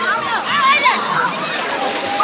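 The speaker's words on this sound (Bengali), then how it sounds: "পানি ছিটায় না বাবা" Water splashing and sloshing in an outdoor park pool, with kids' excited voices and a busy crowd murmuring around it, steady and fairly loud over the whole stretch.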